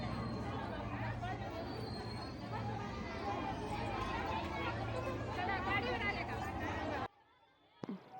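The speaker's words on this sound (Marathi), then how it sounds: "सगळ्या लेडीज इकडे पण तेवढीच गर्दी आहे" A dense crowd of women chattering together at a Ram temple on a Makar Sankranti evening, a steady, close hubbub of overlapping voices that cuts off abruptly near the end, leaving quiet and a brief knock.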